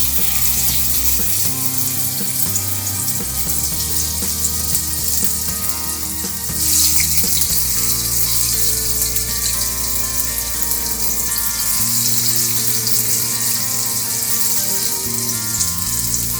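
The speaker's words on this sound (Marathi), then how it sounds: "आता आपण हे तेलात सोडतो. हे आपल्याला शॅलो फ्राय करायचं." Chicken and mutton shallow-fry in hot oil, giving a loud, steady sizzle that runs through the whole stretch over a bed of tonal background music.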